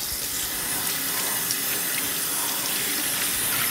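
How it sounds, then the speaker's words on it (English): Plain tap water pours steadily into a stainless steel sink while dyed yarn is rinsed, a loud, close, continuous splashing rush that stays even throughout with no voices. "I'm just going to be rinsing them in the stainless steel sink using plain old tap water"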